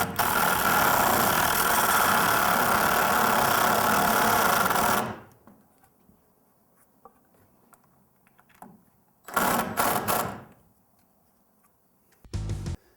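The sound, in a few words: screw being driven into door frame stud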